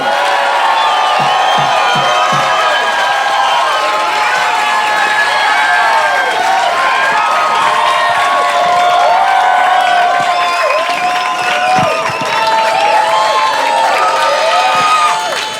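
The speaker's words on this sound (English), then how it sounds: "How about a big round of applause for Brian Posehn?" A comedy club audience applauds and cheers for a stand-up comedian, with loud sustained clapping, whoops and shouting from a large crowd throughout.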